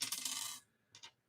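Four-sided dice tumble and clatter across a hard surface in a rattling burst lasting about half a second, then a second short clatter follows after a brief pause.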